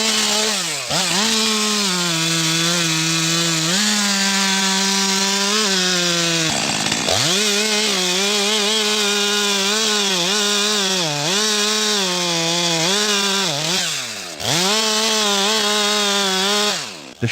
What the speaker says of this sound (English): The sharp chainsaw screeches as it marks the first incision, tracing the fate of the giant tree